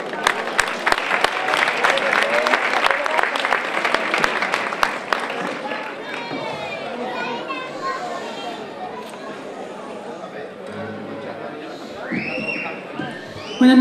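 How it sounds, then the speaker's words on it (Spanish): An audience at a fandango singing contest applauds with sharp clapping for about five seconds, then fades into murmured chatter and a voice speaking, with guitar-like tones near the end. "Un aplauso."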